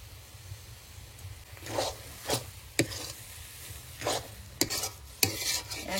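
A spoon stirs pitha filling made with peanuts in a pan, producing intermittent scraping strokes that come close and fairly clear against a faint steady background, with no talk.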